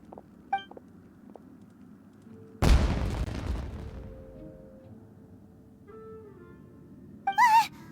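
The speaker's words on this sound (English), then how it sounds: "It sounded like fireworks." A fireworks explosion in the Genshin Impact video game bursts as one loud, sudden boom with a rumbling decay, followed by quieter game tones and a short high chirp near the end.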